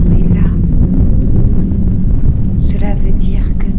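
Wind blows steadily and loudly across the microphone, a constant low roar that fills the whole stretch with no break.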